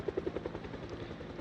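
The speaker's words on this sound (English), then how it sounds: "they will follow the sound of the helicopter" Helicopter in the video game Project Zomboid, its rotor thumping in a steady rapid chop that fades slightly, moderately distant and alone.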